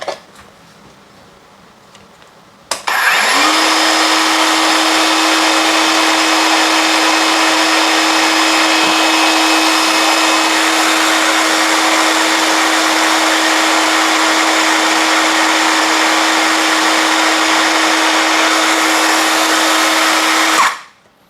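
A Dongcheng cordless brushless circular saw spins up after a brief quiet moment and runs loud and steady at full speed on a fresh battery, a smooth high whine holding constant for about eighteen seconds before cutting off.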